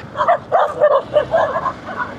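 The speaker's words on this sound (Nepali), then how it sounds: "कुकुरले खेदाएको हौ" A dog on a road in southern Bhutan barks in a rapid run of about eight sharp, yelping barks, fairly close and loud, with no talk over them.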